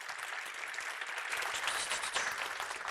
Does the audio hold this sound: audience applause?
yes